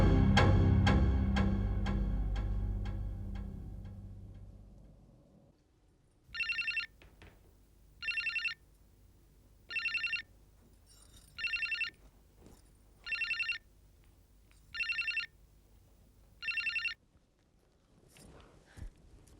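Landline telephone ringing in a home, seven evenly spaced double-trill rings, clear and fairly close, following a fading low rumble, no one speaking.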